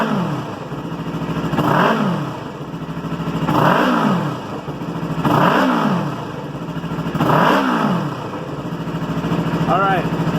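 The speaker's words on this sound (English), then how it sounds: "Now I'm going to go over here and I'm going to rev it up." A used motorcycle that sat unridden for six months is revved repeatedly, four rising-and-falling engine surges about two seconds apart over a steady idle, close by.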